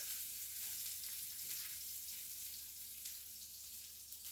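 Onion and vegetables sizzling in a pan on a moderate stove for Jamaican ackee and saltfish, a steady close hiss of frying without pause and with no voices.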